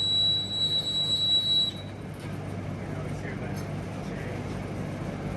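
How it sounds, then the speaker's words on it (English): Propane gas escaping from a greenhouse heater pipe makes a thin, high whistle for a little under two seconds, then gives way to a steady, softer hiss and low background hum. "It's a little thicker, so it has a different whistle."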